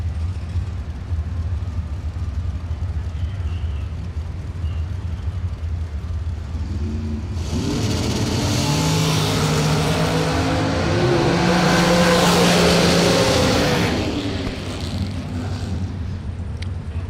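Drag racing cars at a bracket racing event run down the racetrack, engines building from a distant rumble to a loud roaring pass with rising and falling pitch, then fading, over steady crowd and track ambience.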